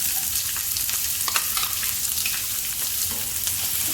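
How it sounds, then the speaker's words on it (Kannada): Chopped onions frying in a pan with cumin seeds and curry leaves, producing a loud, continuous crackling sizzle with frequent small spits and pops throughout. "ಸ್ವಲ್ಪ ಫ್ರೈ ಆಗೋ ಗೋಲ್ಡನ್ ಕಲರ್ ಬರುವ ತನಕ ಫ್ರೈ ಮಾಡ್ಕೊಳ್ಳೋಣ ಈರುಳ್ಳಿನ."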